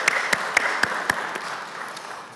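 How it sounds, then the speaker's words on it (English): A small gathering at an annual congregational meeting applauds the new associate rabbi: a soft, steady patter of hands, heard a little distant, with a few sharper claps standing out early before it thins. "So I offer an applause and mazel tov"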